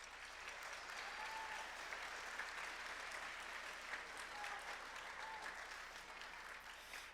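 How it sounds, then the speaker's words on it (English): A school winter concert audience applauds the band boosters, steady sustained clapping from a large crowd, somewhat distant and even throughout. "If you would give our boosters a round of applause"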